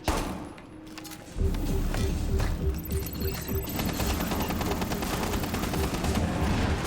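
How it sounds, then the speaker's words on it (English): A cluster charge in Rainbow Six Extraction goes off as a rapid, dense string of small blasts. The loud rattling bursts start suddenly after a quieter lead-in and keep going close by. "Alright, bombing it in. Detonating cluster charge."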